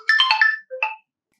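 An Oppo A5x smartphone plays a short, bright electronic ringtone, a quick run of chiming notes followed by a brief second phrase, loud and clear against silence.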